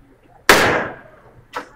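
A Heritage Rough Rider single-action revolver fires a .22 magnum round outdoors: one sharp, loud crack that decays quickly, followed about a second later by a fainter pop.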